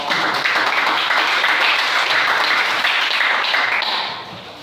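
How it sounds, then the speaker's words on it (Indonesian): A classroom of students claps for a presenting group, steady and loud for about four seconds before fading quickly. "Maka tepuk tangan dulu untuk kelompok."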